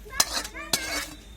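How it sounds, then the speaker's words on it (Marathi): Cooked garlic fenugreek curry being scooped from a pan onto a plate, with two sharp metallic clinks of a utensil against cookware a half-second apart and soft scraping between them, close and fairly quiet. "आता आपल्याला भाजी एका ताटामध्ये काढून घ्यायची आहे"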